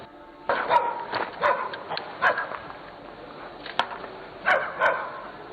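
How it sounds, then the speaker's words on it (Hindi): Dogs bark in repeated sharp bursts, several barks clustered together with pauses between, heard at a moderate distance over faint background noise. "ये किसे देख के भौंक रहे हैं?"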